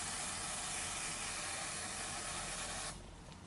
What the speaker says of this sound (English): you want to make sure that you're spraying it away from your face